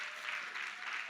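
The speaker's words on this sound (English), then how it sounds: "Please, let's give her a huge round of applause" Brief, fairly quiet applause from the audience at the Africa Prize for Engineering Innovation final as the British High Commissioner for Ghana, Harriet Thompson, is welcomed, a soft, even patter of clapping.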